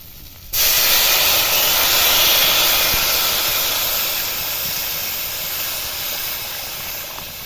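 A sudden loud, steady hiss bursts in and keeps going, slowly easing off, as water hits a very hot pan of well-fried curry masala and steams.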